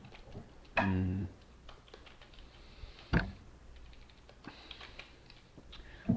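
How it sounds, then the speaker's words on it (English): Typing on a computer keyboard in short, quiet bursts of tapping clicks over a low background hum, with a couple of louder knocks standing out and no talking. "just typing into the chat real quick"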